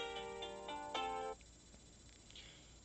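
A soft, melodic ringtone plays a few gentle tones for about a second, then stops, leaving quiet room noise.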